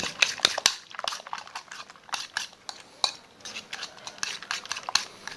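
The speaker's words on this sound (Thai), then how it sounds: "ซีอิ๊วครับ กับซอสหอยนางรม นี่นะครับคนให้เข้ากันเหมือนเดิม" A utensil briskly stirs beaten eggs with soy sauce and oyster sauce for a hot dog omelette, making quick, uneven clinks and scrapes against the bowl, close and clear with no talking.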